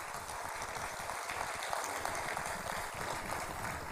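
Applause from an audience at a Valmiki Jayanti event in Delhi, a steady dense wash of clapping that holds evenly throughout, moderately loud with no clear talk over it.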